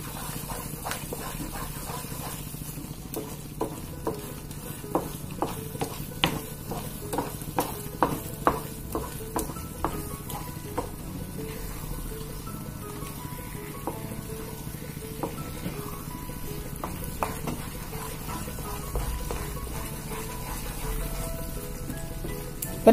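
A spoon stirs thick Bombay halwa in a pan, giving a soft continuous sizzle with repeated light scraping clicks against the pan, steady over the whole stretch with no voices.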